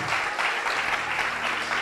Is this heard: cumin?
no